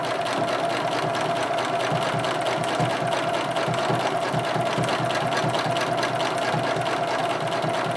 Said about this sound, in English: Now I'm going to stitch out on my diamond grid to the next point of the next diamond